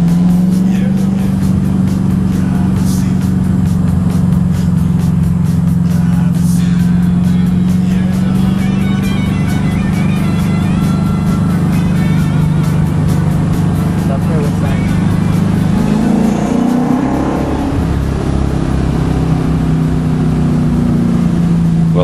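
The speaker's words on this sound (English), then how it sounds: "V8 supercars, this is their fastest corner in Australia, 295 kilometres an hour" V8 Supercar lapping Bathurst flat out through its fastest corner at around 295 km/h, a loud close in-car engine drone that holds a steady high pitch, dips as it brakes and climbs again, with a voice talking over it.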